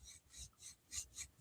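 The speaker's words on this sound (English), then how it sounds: "I'm going to burnish that really well" Burnishing tool rubbed along a scored crease in a greeting card, four or five soft rhythmic rasping strokes close by and faint.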